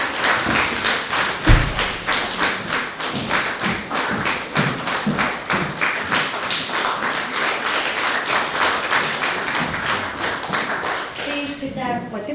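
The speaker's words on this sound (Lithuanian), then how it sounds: "pasitikim plojimais." A concert audience applauds to welcome an opera soloist and her pianist, sustained dense clapping from many hands throughout, nearby and fairly loud, easing at the very end.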